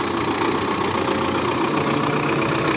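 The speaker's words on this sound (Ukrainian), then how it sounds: "Е, йде нагрузка на гідравліку трактора." A tractor engine labours under hydraulic load while working in rain and mud, producing a loud, steady, close drone with constant vibration and no breaks.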